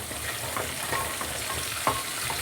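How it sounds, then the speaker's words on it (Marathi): Curry leaves and half-crushed garlic fry in about two large spoons of oil, giving a steady close sizzle and crackle with a few small pops and stirring scrapes. "तेलाचे मोठे 2 चम्मच. आणि त्याच्यामध्ये कढीपत्ता आणि अर्धवट चेचलेला लसूण टाकला आहे"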